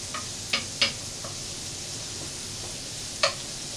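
Finely diced onion and garlic sizzle in a pan for risotto with a steady close hiss, while a spoon stirs them and taps the pan in a few sharp clicks.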